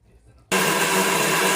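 A kitchen mixer grinder grinding crab with water suddenly whirs to life at full power, a loud steady high-pitched motor roar that continues without pause after a brief quiet start.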